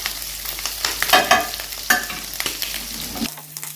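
Meat searing in a tray, a close crackling sizzle with sharp pops and a few scraping strokes, cutting off abruptly near the end.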